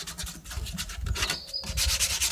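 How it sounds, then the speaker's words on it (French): Rough, quick sanding of a metal drum being prepped for paint, a steady scratchy rubbing in uneven back-and-forth strokes, close and fairly loud with no talking. "Donc là, ponçage"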